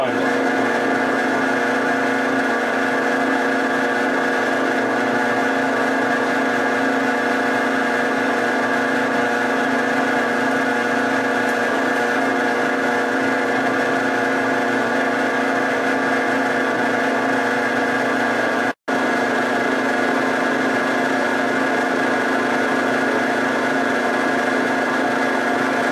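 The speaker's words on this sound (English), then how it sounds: "I'm going to set this up on the drill press, and we'll drill some holes." A steady drill press hum with a constant motor tone runs throughout while drilling holes in a computer case side panel, with a brief cut near the end; no distinct drilling bites stand out.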